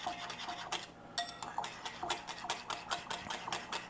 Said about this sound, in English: Whisk the wet ingredients into the dry ingredients.